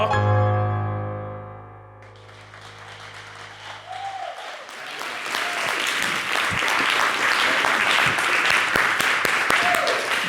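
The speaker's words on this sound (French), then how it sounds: "merci de l'applaudir" Applause for a singer on a French TV program follows a sustained sung or piano note that fades. A full crowd of clapping then swells and continues steadily, dense and fairly close.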